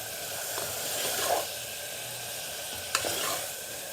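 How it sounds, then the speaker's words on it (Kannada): Rice bath, a spiced rice dish, sizzles in oil in a pan while being stirred: a steady close frying hiss broken by scraping stir strokes and a couple of sharper clinks against the pan. "ಈ ರೀತಿ ಚೆನ್ನಾಗಿ ಅದನ್ನು ತಿರುಗಿಸ್ಕೊಳ್ತಾ ಇರಬೇಕು."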